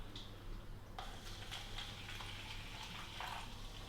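Sparkling water is poured off from a bottle, giving a faint, steady splash with light ticking fizz throughout and no voices.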